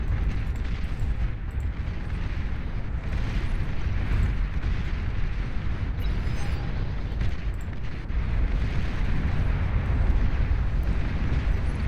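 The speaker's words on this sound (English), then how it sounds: "That's a powerful bombing run right there." Bombing run in the strategy game Beyond All Reason: a dense, continuous roar of overlapping explosions and rumbling blasts, loud and steady throughout, with aircraft noise mixed in.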